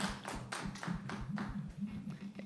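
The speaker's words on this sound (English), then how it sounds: "Let us clap for him." A few people clapping into microphones during an online university conference, a sparse run of distinct claps about five per second over a steady low hum, with faint voice-like sound underneath.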